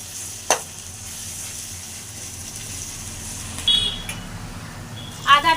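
Onions fry in a pan with a low, even hiss throughout, broken by an occasional sharp clink and a brief squeaky noise near the end.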